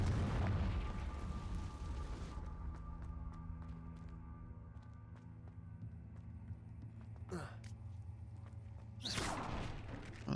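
A Confringo blasting spell goes off in the video game Hogwarts Legacy: a loud, broad explosive blast fades over about two seconds into a low humming ambience, with a couple of whooshing swells later on.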